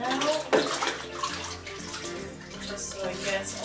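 Water runs from a tap while hair is rinsed, a close splashing flow that shifts as it strikes hair and a basin, with people talking quietly over it.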